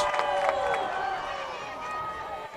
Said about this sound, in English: Pinkerton crowd chanting defense